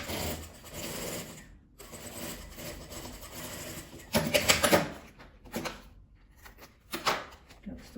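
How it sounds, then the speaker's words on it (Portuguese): A sewing machine stitches plastic bias binding onto a clear crystal plastic cosmetic bag, running in steady bursts with short pauses and a louder run near the end. "então eu vou costurar aqui em cima e virar"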